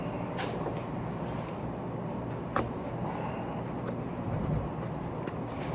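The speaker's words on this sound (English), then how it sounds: "We're going to go ahead and do one cut here and get us a nice piece right here." A Bridgeport Knife Co. 395 pocket knife slicing through external halyard rope, a steady close scraping and sawing rasp with a sharp snap partway through as the fibres part.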